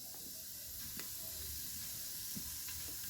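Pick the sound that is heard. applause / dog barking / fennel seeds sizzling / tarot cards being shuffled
fennel seeds sizzling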